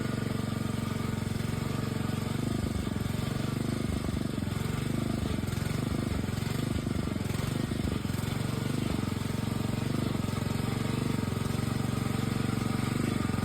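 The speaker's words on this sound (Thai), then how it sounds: "แล้วก็เอารถไถเล็กเข้ามาปั่นพวนตามร่อง" A small walking tractor's engine chugs loudly and steadily while tilling soil in furrows, a continuous rough mechanical drone close by, with no speech.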